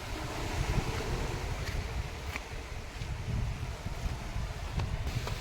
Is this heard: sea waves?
yes